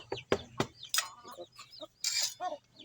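Chickens clucking nearby, a few short clucks and squawks in quick succession with no talking.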